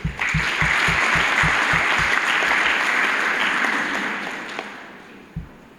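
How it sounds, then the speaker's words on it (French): An audience applauds at a book presentation ceremony, loud sustained clapping with a few rhythmic thumps early on, tapering off gradually toward the end. "Donc je veux vraiment qu'on l'applaudisse très fort"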